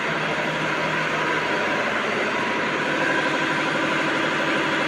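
Two six-cylinder engines run in the engine room of the passenger vessel Al Arafah 7, producing a loud, dense, unbroken mechanical roar that stays steady throughout.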